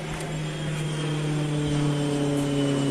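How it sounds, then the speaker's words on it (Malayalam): An airplane passes overhead near Chennai airport, heard outdoors at Vandalur Zoo as a loud steady engine drone with a low hum, holding throughout without a break. "ഫ്ലൈറ്റ് പോകുന്നു."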